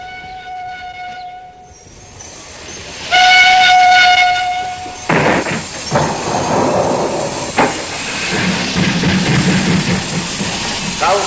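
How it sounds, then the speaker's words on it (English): A train pulls in at Auschwitz in 1978 archival footage: steady whistle tones give way to loud rumbling and clanking wagons, with heavy bangs as it draws in. "Their first encounter with Dr. Mengele was when the train pulled in at Auschwitz."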